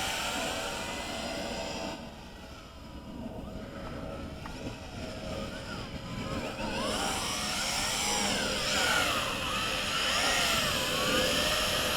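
JJRC H16 Tarantula X6 quadcopter motors whir steadily and loudly, dipping briefly and then rising again with sweeping pitch changes as the drone's speed shifts.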